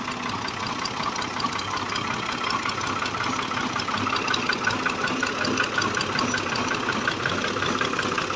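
A Fiat 480 tractor engine runs steadily while driving a water pump, giving a loud, close, unbroken diesel drone with a fast knocking pulse that holds at an even level throughout.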